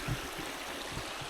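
A river flows off-trail near waterfalls at Hendre'r Mynydd, a soft steady rushing wash of water with no voices.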